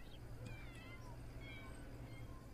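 A cat in The Sims 4 gives a few faint, short meows, a couple close together and another a moment later. The meows sound somewhat distant over a low steady hum.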